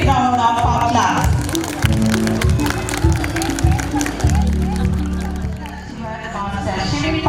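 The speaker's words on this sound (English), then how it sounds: "Let's everyone appreciate our little kids with a big round of applause." A school audience applauds young children at a Health is Wealth Day event, with sustained clapping and crowd noise over music.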